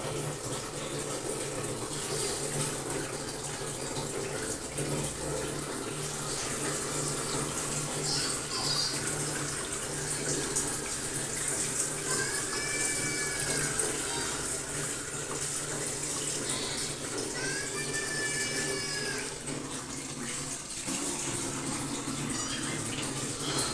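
Water pours steadily into a home aquarium being set up in a kitchen, a continuous close gushing and trickling that runs for the whole stretch with no speech.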